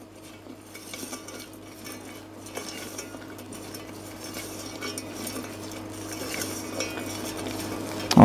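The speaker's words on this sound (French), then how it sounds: "je mélange sans arrêt pour avoir une cuisson homogène, que ça ne colore pas d'un côté plus vite que de l'autre" Pecan nuts stirred constantly in a pan while cooking, a soft continuous scraping and rattling of nuts against the pan under a steady low hum, gradually getting a little louder.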